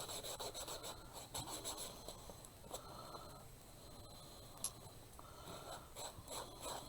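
A finger rubs back and forth over a surface, likely wood, being checked for smoothness, making a faint, close, dry scraping whisper in steady strokes with no talk.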